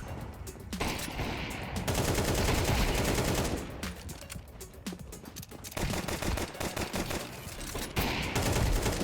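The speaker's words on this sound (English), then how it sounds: "It's a shotgun." Shotgun fire in a first-person shooter video game comes in repeated loud bursts across the stretch, mixed with other dense gunfire and action noise.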